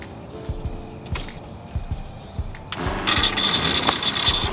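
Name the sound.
camper van water pump motor running dry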